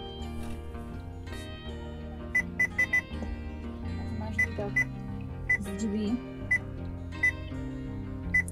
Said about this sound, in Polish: Trzeba wyłączyć pikanie.